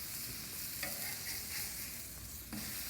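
Loud, steady sizzle of half-pound bacon and cheese smash burgers frying on a Camp Chef flat-top griddle, with a couple of brief spatula scrapes as the patties are flipped; close, continuous, no voices.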